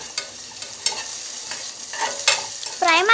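Vermicelli frying in a pan for payasam, a steady soft sizzle with several light scraping stirs and a brief whistling squeak near the end, no voices.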